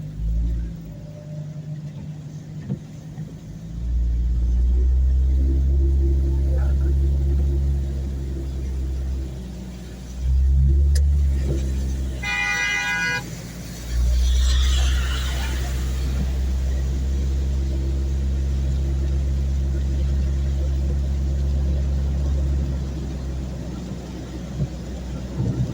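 Cars pass along a rainy road one after another, each a loud low engine rumble swelling and fading, with one rising rev in the middle and a brief hiss of tires on wet pavement.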